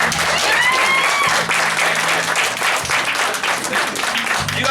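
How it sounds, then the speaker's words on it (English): Theatre audience applauds the director after a stage performance, loud, sustained clapping close by with some crowd noise mixed in. "So let's give a round of applause for him."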